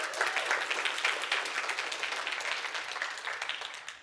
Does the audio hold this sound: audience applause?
yes